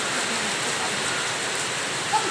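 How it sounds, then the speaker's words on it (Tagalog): Steady rain pours down in an even, continuous hiss, close and fairly loud, with no break across the whole stretch and no voices over it. "Yan, ang ulan."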